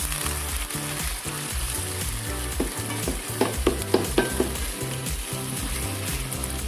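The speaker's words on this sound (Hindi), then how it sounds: "चिकन को अच्छी तरह फ्राई होने देंगे, फिर इसमें बाकी चीज़ें डाल देंगे।" Steady loud sizzling of chicken frying in a pan for white chicken karahi, with occasional stirring scrapes and clinks over the continuous crackle.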